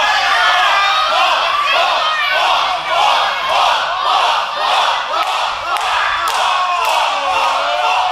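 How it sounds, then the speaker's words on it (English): A packed wrestling crowd erupts in loud, sustained cheering and yelling for Bull James at a Prestige event, with rhythmic chanting swells and occasional thuds throughout. "And this crowd exploding for Bull James"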